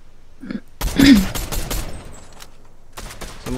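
Gunfire bursts in a Fortnite match, a cluster of sharp shots near the start followed by scattered later cracks, with players talking over the action.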